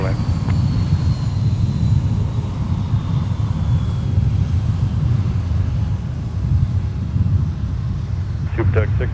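A low, steady airplane roar rumbles throughout as a plane lands on runway 12 right at Minneapolis–St. Paul Airport, with a faint whine sliding across and distant tower radio chatter underneath.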